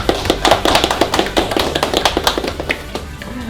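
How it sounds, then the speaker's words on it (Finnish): A burst of applause at a cooking competition, with dense, uneven handclaps and sharp taps that carry on steadily for a few seconds and fade slightly toward the end. "Kaikuvat aplausimat."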